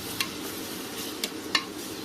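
Sliced onions sauté with fennel seed, cinnamon and cardamom in a pressure cooker, giving a soft, steady sizzle with a few sharp ticks and stirring clicks close by.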